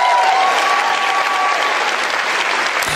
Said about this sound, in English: Can you hear how the crowd clapping?